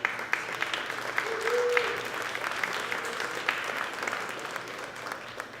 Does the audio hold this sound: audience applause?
yes